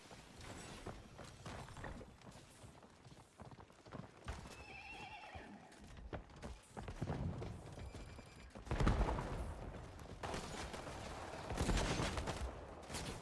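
Gunfire in a video game crackles in rapid bursts, mixed with busy game effects including galloping hooves and a horse's whinny, moderately loud with no speech.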